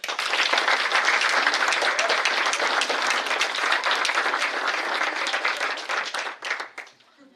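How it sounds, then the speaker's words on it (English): A school honor society audience claps for newly inducted members, a close, crisp burst of many hands that holds strong for about six seconds before thinning out to a few last claps. "Please join me in a round of applause for our newly inducted members."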